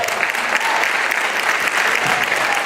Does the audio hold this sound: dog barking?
no